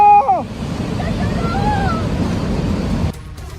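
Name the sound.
flash flood water rushing after a cloudburst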